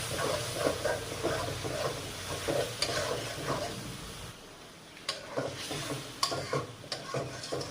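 Spice masala of cumin, coriander, turmeric and chili powder fries in oil for a chicken curry, with a busy sizzle and repeated spatula scrapes, a short quieter stretch midway, then more scraping strokes.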